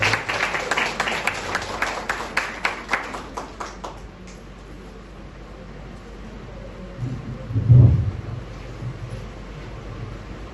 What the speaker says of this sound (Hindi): हम एक बार ताली बजा के पास्टर सैम का स्टेज पे स्वागत करेंगे। सब ताली बजाएंगे।